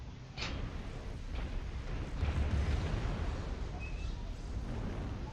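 A giant mech is destroyed in the video game Mechwarrior Online, a loud rumbling explosion with a sharp onset, followed by a sustained low roar and crackle that slowly eases off.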